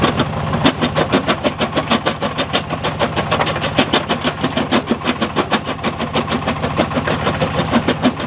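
A cheap $5,000 Chinese rock crusher sits on a gravel pad and crushes gravel, its engine droning steadily under a fast, regular clatter of rock knocking through the machine. The sound is loud and close, with no talking.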